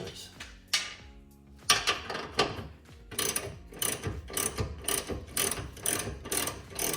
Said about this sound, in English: I got an air ratchet if you want to use that.